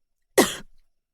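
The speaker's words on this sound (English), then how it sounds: "She coughed, her eyes watering." A woman gives a single short, sharp cough, close and isolated in silence.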